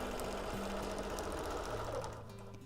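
A sewing machine runs steadily through free-motion quilting fill, a small-scale meander, its continuous motor whir and rapid needle chatter close and even, easing slightly toward the end.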